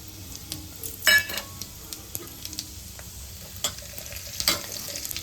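A masala spice mix for white rassa roasts in a pan, soft steady sizzling broken by intermittent stirring scrapes and taps.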